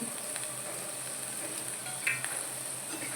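Okra (bhindi) fries in a pan with a soft, even sizzle and a faint high hiss, heard close and quietly, with one small scrape near the end and no talking.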